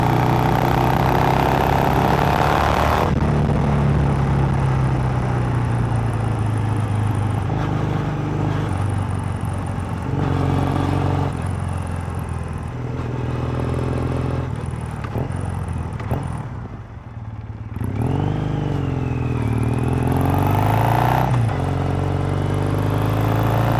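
A Triumph Scrambler 1200 motorcycle engine heard on the ride, a loud steady drone with shifting pitch as revs rise and fall, wind rush throughout and a brief dip in the middle.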